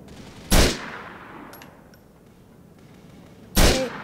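Two loud, sharp gunshots in GTA IV about three seconds apart, with faint metallic pings and a quiet background between the reports.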